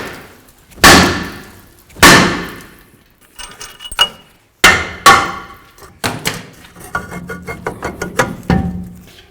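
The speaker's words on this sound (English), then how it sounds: "If you don't have the right size bolts, put on a lug nut," Hammer blows ring out against a brake rotor on a 2007-13 Toyota Tundra rear axle, used to knock the rotor free: about eight sharp metallic strikes, loud and close, the later ones quicker and lighter in a rapid tapping run.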